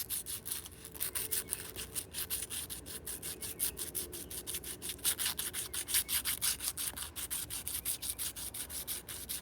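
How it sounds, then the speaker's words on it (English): Sandpaper rubs inside the contacts of a Triumph T140V motorcycle slider switch, a quiet, rapid back-and-forth scratching in steady strokes close by, with no talk. "So I'm just going to take a little bit of sandpaper and clean inside here, like this."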